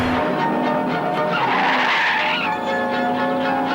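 A car chase from the French film Slash le découpeur, with tires skidding and squealing over a steady engine roar, loud and sustained for several seconds with no voices.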